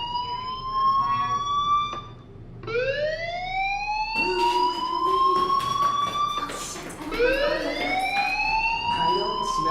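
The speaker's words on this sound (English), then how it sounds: "Hey, do you hear that fire alarm?" A loud wailing fire alarm in a video game, with rising, sweeping tones, repeats over and over, filling the space continuously.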